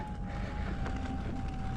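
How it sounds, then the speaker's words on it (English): Steady wind rumble buffets the microphone while riding electric unicycles, a constant low roar with a faint steady tone running beneath it. "Oh, a little windy today."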